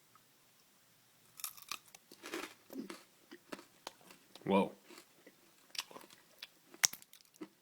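Close, crunchy chewing of maple and orange nougat comes in irregular bursts of bites and crackles, with a brief exclamation from a voice partway through.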